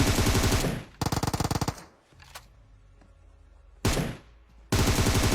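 Automatic gunfire in the mobile battle-royale game PUBG Mobile: two loud, rapid bursts, a quieter stretch with scattered distant shots and game ambience, then two more sustained bursts close up.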